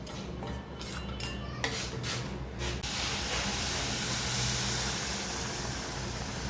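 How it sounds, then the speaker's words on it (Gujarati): Semolina (sooji) roasts in a pan over a low flame for gulab jamun. A spoon scrapes and clinks against the pan at first, then a steady soft sizzle and hiss carries on without talk. "પછી આપણે ધીમા તાપે શેકી લઈશું હળવે હળવે।"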